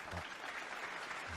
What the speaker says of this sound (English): You can only applaud.